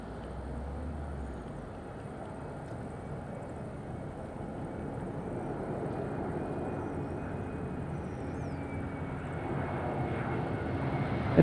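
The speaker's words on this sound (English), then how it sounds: "EasyJet on downwind" EasyJet airliner on approach at windy Madeira Island Airport, a distant, steady engine rumble that grows slightly louder toward the end.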